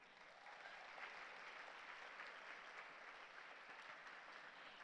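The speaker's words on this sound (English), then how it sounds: "give them a round of applause" Audience applause from a seated training crowd, a dense steady wash of clapping that swells in and holds for several seconds, fairly distant and uniform.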